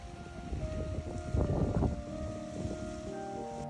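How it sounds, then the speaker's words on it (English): Wind blows across the mountainside on Mount Snowdon, buffeting the microphone with rough low gusts that swell briefly in the middle before easing back to a steady rumble. "it's getting a little bit windy again"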